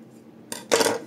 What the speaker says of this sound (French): je viens égaliser les extrémités de mon ruban